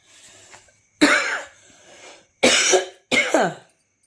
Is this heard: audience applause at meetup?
no